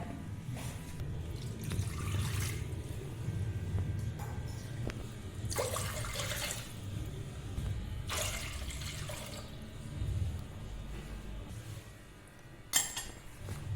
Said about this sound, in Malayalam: അപ്പോൾ ഞാൻ ആദ്യം 3 ഗ്ലാസ് വെള്ളം ഇതിലേക്ക് ഒഴിക്കട്ടെ